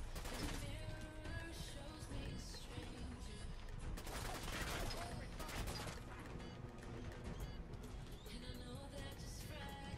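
Gunfire rattles in the video game Fallout 4, dense bursts of rapid shots and crackling impacts running continuously under a quiet, noisy mix.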